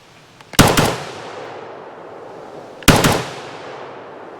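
Two sharp, loud rifle shots from a pre-ban Steyr AUG SA semi-automatic bullpup fed from a modern magazine, spaced about two seconds apart, each followed by a short echoing decay outdoors.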